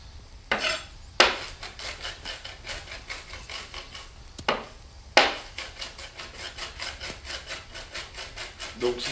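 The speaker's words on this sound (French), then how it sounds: "Maintenant, on va hacher l'endive finement." A knife chops an endive finely on a wooden board in a fast, steady run of close, crisp strokes, with two short pauses.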